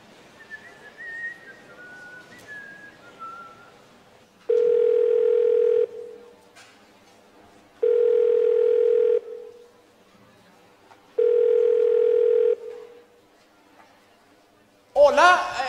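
Telephone line tone on a call being placed: three long, steady electronic beeps of about a second and a half each, separated by even pauses, loud and clear, with a voice bursting in right at the end.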